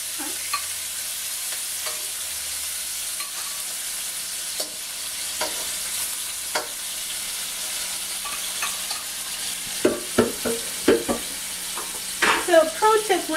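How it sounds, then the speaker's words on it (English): Shrimp hit a hot pan with a little liquid, bringing a steady hiss of frying and sizzling that swells near the end along with clattering stirring strokes, heard close and without talk. "So yeah, stand back for this one. It's got a little bit of liquid in it. So we're just going to add in our shrimp."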